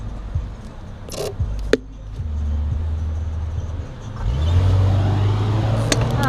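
A car pulls away from a green light on a road, its engine rumble swelling and steadily rising in the second half, heard from close behind with a few sharp clicks early on.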